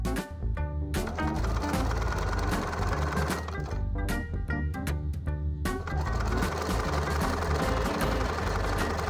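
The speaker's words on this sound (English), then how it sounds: "Use a short zigzag stitch to stitch all the way around the piece." Sewing machine running a short zigzag stitch around a felt cat mask, a loud continuous rapid mechanical whir with brief pauses and restarts, close up and alone.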